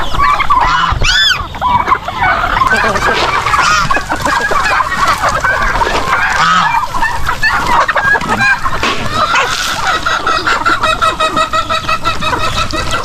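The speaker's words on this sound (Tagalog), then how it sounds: "Nandito ang mga pabo at manok." A crowded flock of turkeys and chickens nearby on a farm, with gobbling, clucking and honking calls overlapping constantly, loud and busy throughout.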